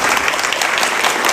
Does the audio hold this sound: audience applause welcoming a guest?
yes